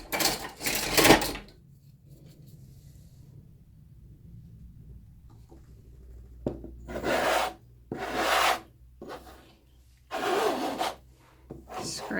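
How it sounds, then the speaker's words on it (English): Metallic acrylic pour paint being scraped back into the middle: a few rough, rasping scraping strokes, close and moderately loud, separated by quiet pauses with faint room noise. "scrape all that back up into the middle"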